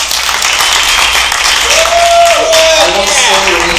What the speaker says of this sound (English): Come on, give Cody a round of applause.